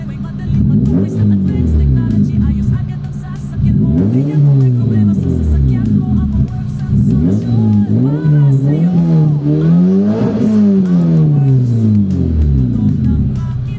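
Lower-powered car engine with a fault, being revved up to high RPM in repeated loud, close rising and falling sweeps, with a rough idle between pulls.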